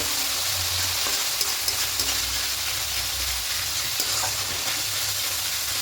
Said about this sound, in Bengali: এবার টক দই দিয়ে খুব ভালো করে কষাবো যতক্ষণ না তেল ছাড়তে শুরু করছে